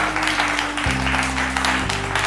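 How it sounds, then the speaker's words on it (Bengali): Loud applause for a team at a family game-show event, a continuous wash of clapping from a crowd, heard over a steady low droning tone that shifts pitch partway through. "আর জোর হাততালি টিম বি।"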